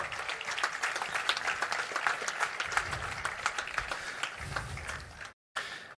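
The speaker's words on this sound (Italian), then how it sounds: "Prego Mauro, grosso applauso." An audience gives warm applause at a football club staff presentation, dense continuous clapping from a crowd that carries on evenly before a brief cut near the end.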